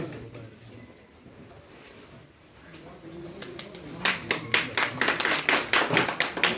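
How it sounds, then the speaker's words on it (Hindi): Applause welcomes a zonal education officer arriving at his retirement farewell party: a crowd of hands claps steadily and grows louder and denser over the last few seconds, with murmured voices and room noise beneath. "से तालियों से अपने जेडियो साहब का इस्तकबाल कर रहे हैं।"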